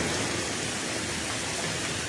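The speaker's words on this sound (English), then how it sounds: "You liking this rain? I like the rain." Rain falling in Bay City makes a dense, steady hiss that stays even and unbroken throughout, with no voices or other distinct sounds.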